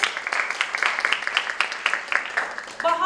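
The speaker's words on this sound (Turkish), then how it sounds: "bir alkış istiyoruz" Scattered clapping from an audience at a hospital healthy-eating talk, moderately loud and uneven, with a voice briefly rising near the end.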